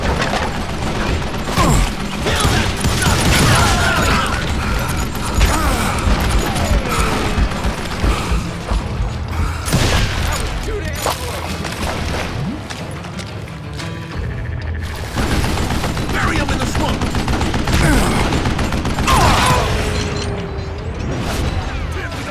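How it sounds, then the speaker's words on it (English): Heavy, sustained gunfire barrage in the Western shooter Call of Juarez: Gunslinger, with dense overlapping shots, booms and mechanical clatter running loud and continuous throughout. "a fusillade of bullets come raining down from on high"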